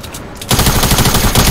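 Automatic gunfire in the video game Fortnite bursts in suddenly after a quiet moment, a loud, rapid string of shots that continues without pause.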